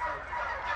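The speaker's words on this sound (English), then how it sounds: "These turkeys here are getting" Turkeys gobble on a farm, a short burst of rapid, warbling calls from several birds close by, with no talking over them.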